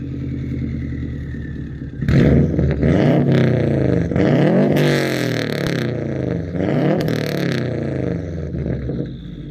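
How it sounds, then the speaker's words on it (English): A 2008 Subaru WRX turbocharged four-cylinder boxer engine rumbles, then revs hard in repeated rising and falling pulls, loud and close with a burbly, uneven throb between blips. "it's a pretty unique and good sounding 4-cylinder turbo"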